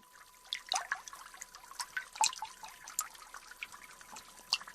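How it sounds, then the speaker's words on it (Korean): Cold water drips fall in a dark tunnel, sounding as faint, scattered, irregular plinks and trickles against a quiet background. "어두운 터널 안으로 들어서니까 차가운 물방울이 뚝뚝 떨어지고 있었다."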